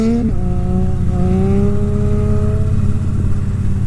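A Triumph Street Triple motorcycle engine runs loud and close, a deep steady drone that climbs smoothly in pitch as the bike accelerates, with no talk over it.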